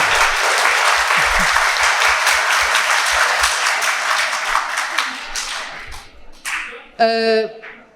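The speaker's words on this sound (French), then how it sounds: "je voudrais des applaudissements retentissants" An audience at a philosophy event in a public square gives loud applause that gradually fades, with a few thumping taps under it and a voice speaking over the dying claps near the end.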